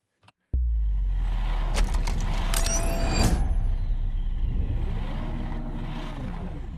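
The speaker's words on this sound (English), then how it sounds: "a Bugatti Veyron sound effect from YouTube and used that thing" Bugatti Veyron supercar engine effect: after a brief click, a loud engine kicks in suddenly and roars, rising whine sweeping upward then settling into a sustained rumbling drone that slowly fades.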